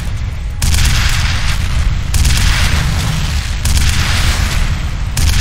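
Heavy explosions boom in the video game FEAR Perseus Mandate, several loud, dense blasts rolling one into the next and filling the whole stretch.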